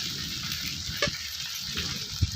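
Sabudana khichdi with crushed peanuts is stirred in a pan, with a low continuous frying hiss, soft spoon scrapes and a couple of brief clinks against the pan.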